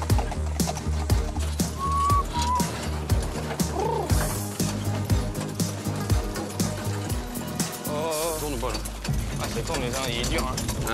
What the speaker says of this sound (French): une fois les guides mis, les chevaux attelés au quadrige, Karl ensuite part donc